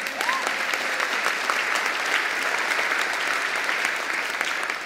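Crowd clapping at a bookstore talk by Senator Elizabeth Warren, a dense, steady roar of many hands sustained evenly for several seconds in a reverberant room.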